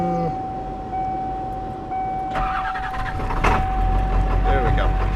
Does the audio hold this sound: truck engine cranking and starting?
yes